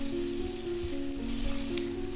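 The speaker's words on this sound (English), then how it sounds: "Saute till the spices turn aromatic" Cumin powder, coriander powder and fenugreek seeds sauté in oil for a rajma masala, producing a soft, steady sizzle over a low constant hum, fairly faint and unbroken by speech.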